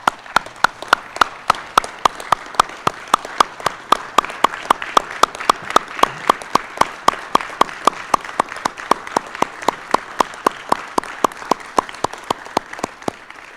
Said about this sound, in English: let's give her a great round of applause for her service and sacrifice.